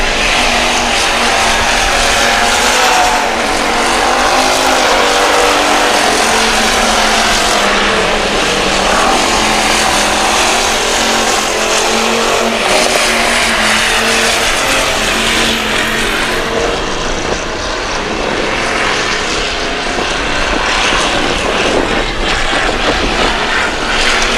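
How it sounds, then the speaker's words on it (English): Hobby stock race cars run hot laps on a dirt oval, a continuous loud engine roar that stays steady throughout with no talk over it. "Takes care of the hobby stock hot laps."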